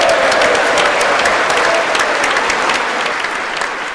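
Loud, sustained applause fills a large hall as Ukrainian President Zelensky speaks in America, a dense steady clapping from a big crowd that eases slightly toward the end.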